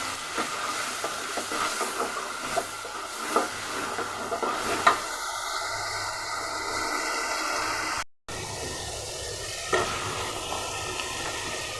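Prawns go into a pan of cooking spices with a steady hissing sizzle, punctuated by a few spoon scrapes and clinks and a brief gap partway through.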